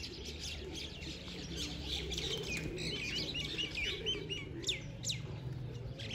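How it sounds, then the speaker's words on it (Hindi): Small birds chirp and tweet over a low, soft background murmur, with faint pigeon cooing and wing flapping mixed in; no voices. "अपने कबूतर नीचे उतर रहे हैं,"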